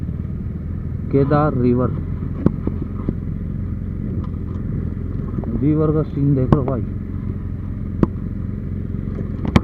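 A motorcycle rides a rough, pothole-strewn mountain road on the Kedarnath to Badrinath route, its steady engine drone and wind running throughout, with a couple of sharp bumps and someone talking over it.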